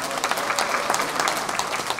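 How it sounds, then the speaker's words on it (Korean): An audience at a singer's album launch event claps for an arriving contestant, a dense, steady patter of many hands, fairly loud and continuous for two seconds with no speech on top. "여러분 박수 부탁드리겠습니다."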